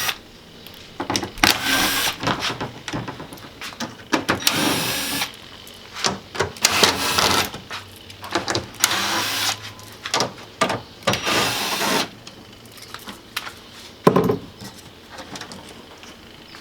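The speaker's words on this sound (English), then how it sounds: "the first thing that we need to go ahead and do is remove these screws." Power driver backing out screws to install a Mountain Hatch, repeated close whirring bursts of varying length separated by brief pauses and handling clatter.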